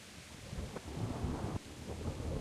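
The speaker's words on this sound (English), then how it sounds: "It's like raining sounds coming in and out." Rainstorm in the medieval game Kingdom Come: Deliverance, steady rain hiss with low rumbling thunder rolling in and out, no voices.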